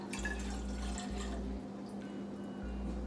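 A cup of water is added to a cooking pot, giving soft splashes and drips over a steady low electrical hum in a quiet kitchen.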